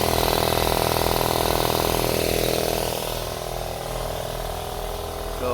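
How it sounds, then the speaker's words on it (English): An air compressor running beneath a house, giving a loud, steady mechanical motor drone with a pulsing hum that eases slightly partway through, then carries on evenly. "I don't like listening to the air compressor run."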